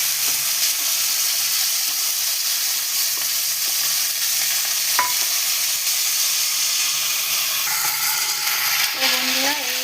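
Flat beans frying in a hot pan give a loud, steady, close hiss that holds throughout, with a couple of faint metallic clicks and a brief faint voice near the end.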